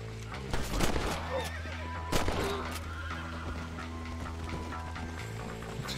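A horse in the video game Red Dead Redemption lets out a loud whinny early on, with hoofbeats and a steady game music bed continuing underneath.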